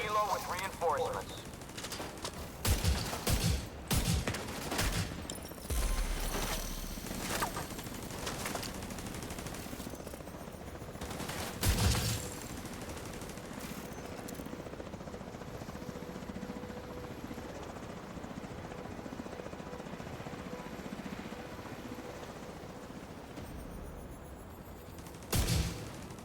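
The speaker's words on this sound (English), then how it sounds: "We're taking fire on the western perimeter. Already sent a helo with reinforcements." Gunfire bursts and a helicopter in The Division 2 video game, with sharp loud volleys early and near the end over a steady rotor-like drone; game dialogue voices are present.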